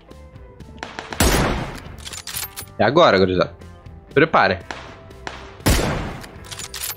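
PUBG gameplay gunfire comes as a few loud, sharp single shots spread across the clip, with quick bursts of rapid firing between them and someone talking excitedly over the action.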